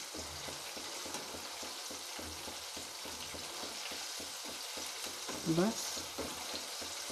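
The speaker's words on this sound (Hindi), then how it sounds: "इसको फ्राई होने देंगे।" Coated chicken popcorn pieces fry in hot oil with a steady, dense sizzle throughout, a brief clink or stir near the end, and a few quiet spoken words.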